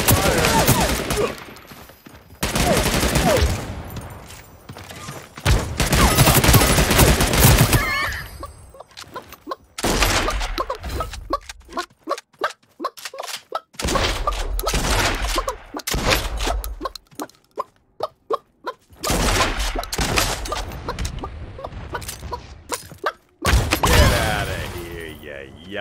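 Gunfire in the fantasy battle royale game Realm Royale rattles out in repeated loud, close bursts and volleys of shots, broken by short pauses, with game sounds and brief voices between them.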